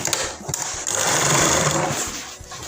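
Sewing machine stitching fabric strips for an umbrella-style lehenga flare, a rapid mechanical whirr running fast and close for nearly the whole moment, with short pauses and clicks at the edges.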